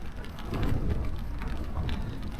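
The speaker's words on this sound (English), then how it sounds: "It's just started raining." Steady rain patters on a camping tent as wind picks up, a close, even drumming texture with no voices.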